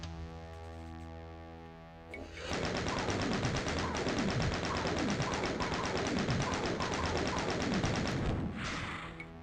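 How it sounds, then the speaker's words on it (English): Doom's chaingun fires in classic Doom, a rapid, steady stream of loud shots rattling on for about seven seconds without a break before cutting off, close and dominant with no talk over it. "Chain gun?"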